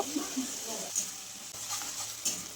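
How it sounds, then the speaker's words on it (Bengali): A spice paste with a splash of water is stirred and fried in a pan for river fish curry, a soft ongoing sizzle with intermittent spoon scrapes and clinks against the metal. "সামান্য পরিমাণ জল দিয়ে মশলাটাকে ভালো করে কষিয়ে নেব"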